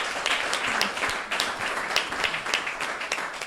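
Applause from an audience at the closing session of a conference, a steady dense patter of many hands clapping throughout, fairly even in loudness with small swells.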